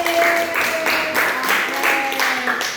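A small group of people, likely a class, clapping together for a person named Amir: brisk, steady applause close by, with some voices mixed in.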